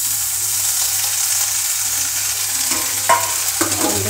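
Pabda fish, two at a time, fry in soybean oil in a pan with a steady, loud hissing sizzle, broken near the end by a few sharp clinks and scrapes of stirring.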